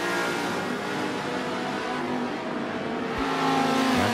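Race cars, a Lamborghini among them, roar around Brands Hatch in Forza 7, a steady engine drone with rising revs and a brief low thump near the end, loud and continuous with no talking.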